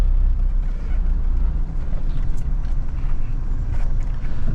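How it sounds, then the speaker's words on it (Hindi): Diesel engine of a converted Mahindra Scorpio Classic running, a steady low rumble with constant road and wind noise from inside the moving vehicle, no pauses. "जो आवाज़ है ना गाड़ी की, जो आवाज़ कर रही है ये, वेरी नाइस यार"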